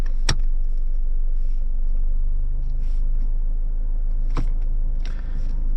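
Toyota Prado 250 GX creeping off-road in low range, a steady low engine and drivetrain rumble throughout, broken by a few sharp knocks and clunks from the vehicle, with no talk.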